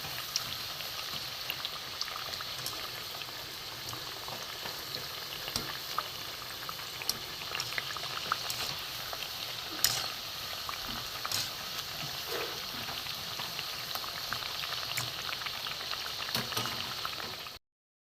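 Semolina and milk snack pieces frying gently in oil over a low flame, giving a steady soft bubbling and crackle that runs evenly throughout at low volume with no talk.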